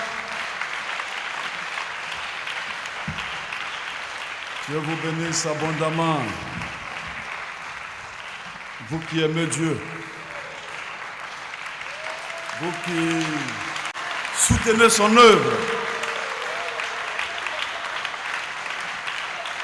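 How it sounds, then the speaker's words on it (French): A church congregation applauds continuously through an evening service, the clapping steady and moderately loud while a preacher speaks over it several times. "On donne encore des acclamations au Seigneur."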